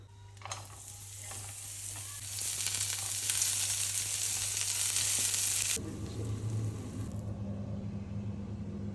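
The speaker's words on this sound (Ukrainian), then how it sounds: "Далі я хочу піджарити цибульку, щоб вона була така, така смачна, як ніколи." Onion frying in a skillet for homemade burgers, a steady sizzle that swells louder for several seconds and then drops abruptly to a softer frying hiss with a low rumble underneath, no speech.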